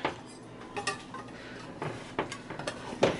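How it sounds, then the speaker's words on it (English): Serving utensil cutting through a pan of chicken alfredo Florentine lasagna, with soft scraping and a few light metallic clinks against the pan, the sharpest near the end, heard close and alone. "you can use it to cut stuff like lasagna without having to use a knife"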